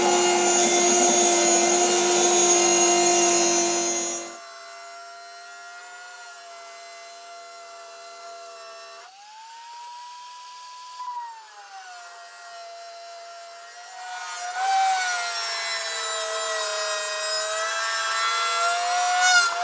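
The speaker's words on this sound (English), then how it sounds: "I've been using my little Dremel here" A small Dremel rotary tool cuts out a channel in a workpiece. Its thin, high whine drifts up and down in pitch as the load changes, loud and harsh at first, quieter in the middle, then loud again. No one speaks.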